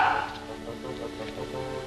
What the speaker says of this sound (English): there's your dog anyhow. You better call him.